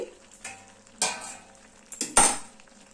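Slit ripe green chillies are mixed into Bengali pui mituli vegetables in a pan: a few separate spatula scrapes and metal clinks over a faint background sizzle, close and fairly quiet, with no speech.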